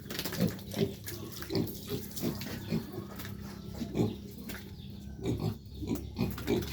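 A piglet grunts in short, repeated bursts close to the mic while being bathed, with water running and splashing steadily underneath.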